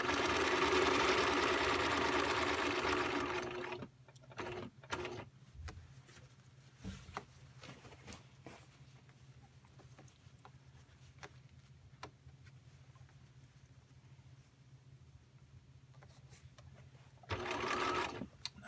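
A home sewing machine runs in a fast, steady whir while stitching close to the edge of fabric, loud at the start, then quiet with light ticks and handling, before stitching resumes near the end.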